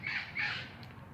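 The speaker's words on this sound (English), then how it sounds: "Parrots going overhead" Parrots squawking as they fly overhead outdoors, two loud harsh calls in quick succession followed by a fainter trailing call, with no voices.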